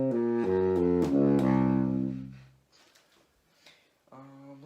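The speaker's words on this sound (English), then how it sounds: "went inside to play my saxophone for the first time in a couple days" Saxophone playing the Japanese Iwato scale, a run of sustained rising and falling notes, close and clear, fading into a short gap before a final held tone returns.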